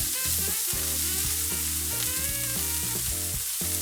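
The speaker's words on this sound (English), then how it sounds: "we're just going to saute this around" Chopped onion sautés in a pan over low-to-medium heat, giving a steady sizzle and fry through the short stretch with no talking, while strong low tonal layers sit underneath.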